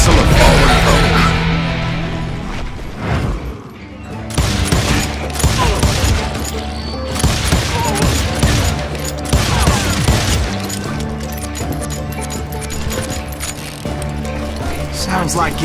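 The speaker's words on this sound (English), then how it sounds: "Sounds like Garrett hired a whole regiment of hired guns." Dense gunfire from hired gunmen in the Wild West video game Call of Juarez: Gunslinger crackles in loud, rapid volleys with booming shots across the whole stretch, mixed with game music and dialogue.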